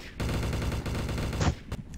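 Rapid gunshots in the video game Trouble in Terrorist Town, a quick burst of repeated shots followed by a couple of sharper isolated cracks, close and moderately loud.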